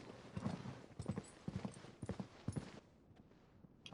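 Horse hooves clip-clop in Final Fantasy XVI, a rider on horseback trotting in a steady rhythm of close, distinct hoofbeats for most of the stretch before fading into quieter ambience.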